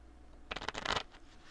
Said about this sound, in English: A little more shuffle here.